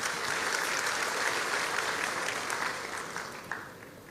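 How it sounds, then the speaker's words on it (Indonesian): Church congregation at a sermon clapping together, a loud, full wash of many hands that holds steady, then thins and tapers toward the end, with a faint voice surfacing briefly. "Tepuk tangan untuk Tuhan kita."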